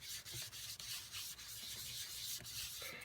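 A sponge dabs and rubs blue ink onto card stock for a paper-crafting wave effect, giving a steady close scratchy rubbing with short soft dabs throughout.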